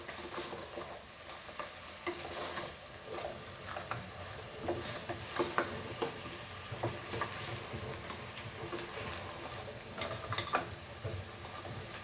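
Butter garlic blue crabs being stirred with masala in a frying pan, with steady sizzling and soft scraping and clattering of the utensil throughout, fairly quiet and free of talk.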